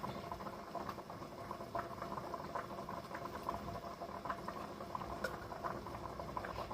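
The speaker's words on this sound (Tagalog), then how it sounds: "Niluto ko muna yung munggo" Mung beans boil steadily in a pot on the stove, giving a dense, continuous bubbling and popping that stays even and close throughout, with no talking.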